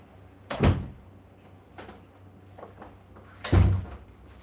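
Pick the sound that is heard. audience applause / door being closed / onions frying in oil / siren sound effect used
door being closed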